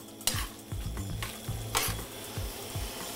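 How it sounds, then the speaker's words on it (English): Pasta being tossed in sauce in a pan, with a steady sizzle under repeated scraping and clattering stirs in an uneven rhythm, close and fairly loud. "We wanna actually let it cook in here for a minute as we toss the pasta."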